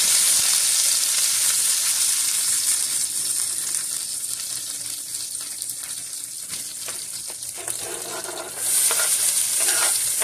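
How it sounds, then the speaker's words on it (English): Fresh Flavor Bomb tomatoes sizzle in hot avocado oil in a pan previously used for boiling sausage, a steady close frying hiss with a brief gurgle and a louder surge near the end, no talk. "I'm going to add some fresh little Flavor Bomb tomatoes"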